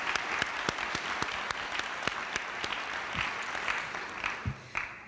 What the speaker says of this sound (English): join me in a round of applause for him